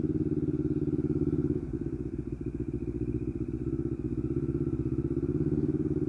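A motorcycle with an open-pipe exhaust idles close by, a loud steady low burbling throb with a brief rough lumpy patch midway before settling back to an even idle.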